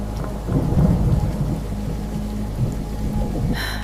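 Heavy rain falls steadily on a dark road during a storm, with a deep rolling thunder rumble building in the first seconds and fading under the constant downpour.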